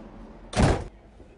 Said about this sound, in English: Then rejoin the train and closing the door behind me